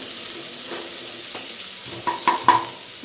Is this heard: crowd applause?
no